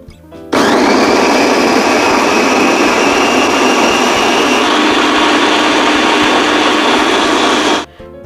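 An electric food chopper, its lid closed, grinds a dry mix of roasted peanuts, spices, egg and vanilla powder. The loud, steady whirring motor starts abruptly, runs nonstop for about seven seconds with a slight pitch shift midway, then cuts off.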